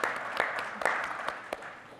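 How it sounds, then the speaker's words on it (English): Audience applause at a fireside chat event: a short, fairly quiet burst of many hands clapping, with a few sharper claps standing out over a steady patter. "Big round of applause."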